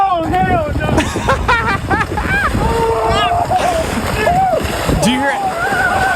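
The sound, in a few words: splashing of people plunging into cold Lake Michigan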